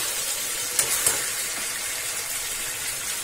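Chicken curry being roasted in a pan over a high gas flame gives a steady, even sizzle throughout, with a couple of brief clinks or stirring taps early on and no talking.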